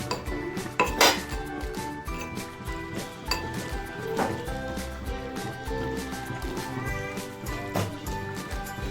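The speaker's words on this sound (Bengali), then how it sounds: "আমি নেড়ে নিয়েছি" Chicken being stirred with a small spoon in a handi pot: metallic scrapes and clinks against the pot sides, steady and close, with occasional sharper knocks.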